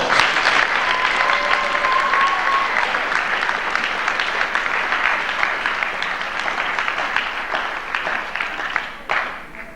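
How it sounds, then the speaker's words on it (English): Audience applause at a school fall sports awards night, loud and sustained clapping from a sizable crowd, slowly fading over about ten seconds and ending with a few final claps. "This lady deserves a big round of applause."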